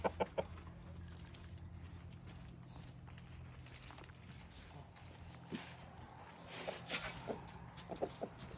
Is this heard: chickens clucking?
yes